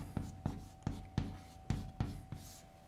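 An equation is written by hand on a board, a series of seven quick, evenly spaced strokes heard close and fairly quiet, each with a short scratchy attack, with no one speaking.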